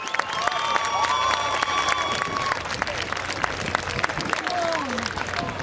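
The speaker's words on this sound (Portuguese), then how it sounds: "Passar palmas para ele" A crowd at a Portugal Day celebration in Toronto applauds the rehearsal leader of a fado group: dense, continuous clapping with scattered cheers, loud and close throughout.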